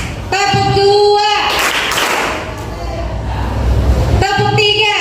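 Students in a Pancasila classroom clap together during a rhythmic ice-breaking counting game, a dense burst of group clapping lasting a few seconds, framed by a teacher's chanted count before and after.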